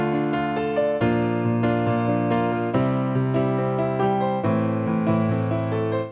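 A piano plays the closing variation of a song, with steady sustained chords and a repeating melodic figure, clear and alone with no voice.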